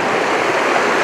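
Clear stream water flows over stony ground on a moor, making a steady, close, broadband rushing and burbling that fills the short stretch alone, with no voices.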